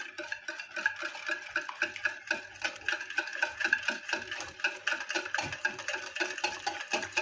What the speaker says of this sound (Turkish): Ve tekrar karıştırıyorum.